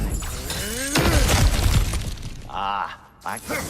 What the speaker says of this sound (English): Ah, back to smashing through things for fun and profit.